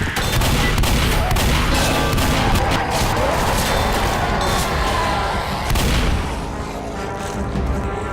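Heavy shotgun fire in Left 4 Dead, set on the Blood Harvest campaign's bridge, comes as a dense, loud barrage of overlapping blasts and booms that thins slightly toward the end.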